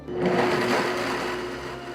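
A blender grinding soaked soybeans with hot water for tofu, a loud continuous motor whir that starts abruptly and holds steady, close and alone.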